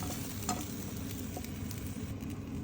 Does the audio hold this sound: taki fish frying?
yes